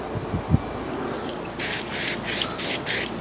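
Brake cleaner sprayed onto a Fiat 500 rear light cluster in short hissing bursts, about six close aerosol sprays in a row after a few faint knocks.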